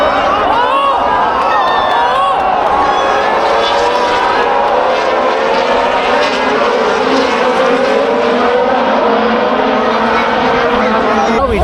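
Formula 1 race cars leaving the start in Shanghai, a loud, continuous high-pitched engine roar with overlapping whines rising and falling in pitch, over a background of crowd noise.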